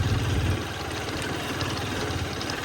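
A motorbike engine idles on a rough, broken road through forest, a low, even chugging pulse heard close up with no talk.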